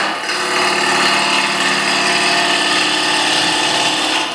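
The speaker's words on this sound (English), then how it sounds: "I'm going to start by just tidying up the outside edge first with a regular bowl gouge" A 10mm bowl gouge cuts the outside edge of a wooden bowl spinning on a lathe. The hiss and scrape of the cutting hold steady and loud at close range, with no talk.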